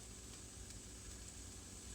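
Rice sizzles in a hot pan on a stovetop turned up high, a faint, steady hiss of frying with no talking.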